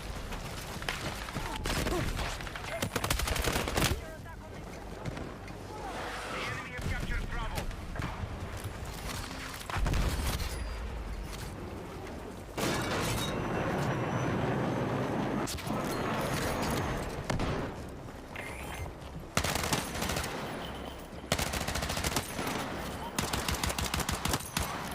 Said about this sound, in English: The audio for the guns sound really crisp and clear